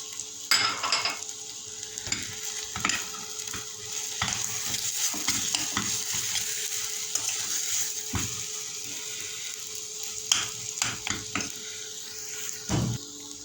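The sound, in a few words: potatoes with spices being stirred in a pan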